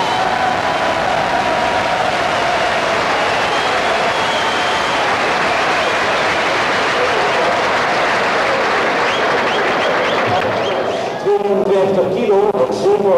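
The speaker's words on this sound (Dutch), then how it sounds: "En dan moet ik ook een formidabele applaus voor Pascal Oberla." An audience at a 1986 kickboxing gala applauds with loud, sustained clapping and crowd noise that keeps a steady level before a voice comes in near the end.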